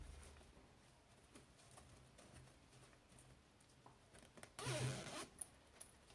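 A zipper on a handmade patchwork cosmetic bag made from fabric strips is pulled in one quick, close burst near the end, with faint rustling and handling before it.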